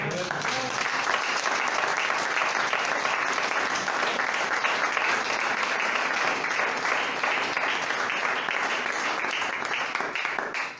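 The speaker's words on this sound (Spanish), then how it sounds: "Denle un aplauso, señora." A church congregation claps loudly and continuously for about ten seconds, a dense sustained round of applause that tapers off at the end.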